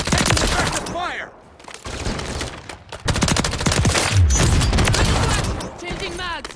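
Dense automatic gunfire in Call of Duty Modern Warfare 3, loud sustained bursts of rapid shots filling most of the stretch, with a brief lull early on, under game voice callouts.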